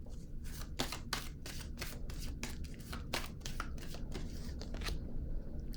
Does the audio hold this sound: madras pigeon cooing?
no